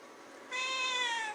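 A house cat gives a single drawn-out meow, clear and fairly near, over a quiet room background with no talking.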